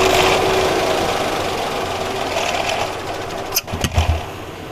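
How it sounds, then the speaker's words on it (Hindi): A 2013 Toyota Vitz engine with a misfire idles roughly and close by, then takes a few quick, uneven throttle blips near the end. "एक्सीलेटर दें गाड़ी को।"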